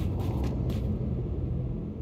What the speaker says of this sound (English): Hear that? Storm's dying down.